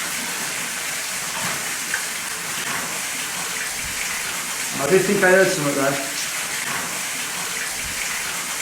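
Water flows steadily near an old pumping station on a heath estate, a constant hiss and gush that runs throughout, with someone speaking briefly over it midway.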